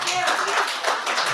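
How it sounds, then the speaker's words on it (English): Scattered clapping breaks out at a Melbourne City Council workshop on homelessness initiatives, a short burst of hands under and alongside speech. "Okay, no clapping"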